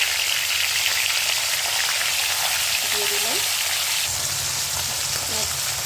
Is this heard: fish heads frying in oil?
yes